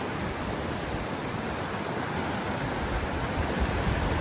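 Stream water rushes over rocks at a hiking trail crossing near Conundrum Hot Springs, a steady, even broadband wash heard close, with no voices.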